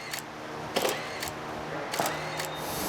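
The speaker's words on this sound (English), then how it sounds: "Paul's off to a photo shoot for Easy Riders magazine" Camera shutter clicks at a magazine photo shoot for a custom motorcycle build, about six crisp separate clicks at irregular intervals over a steady background hum, close and clear.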